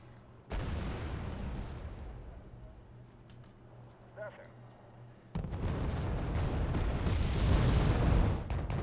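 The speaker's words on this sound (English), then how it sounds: "Good artillery hits, though." Artillery fire landing in the Wargame: Red Dragon strategy game, a low rumbling barrage that swells after a quieter stretch with a brief pop, continuous and moderately loud.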